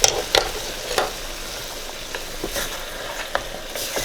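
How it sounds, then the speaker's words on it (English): Pork ribs in tomato gravy are stirred in a pot over low heat, giving a soft steady sizzle with a few sharp spoon scrapes and knocks against the pot, close by and with no talking. "Give it a stir so the tomato sauce gets at the bottom too."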